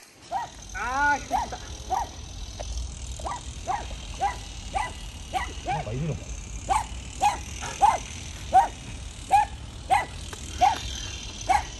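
A dog outdoors during golf practice barks over and over in a steady rhythm of loud, sharp barks, with faint voices and background noise beneath.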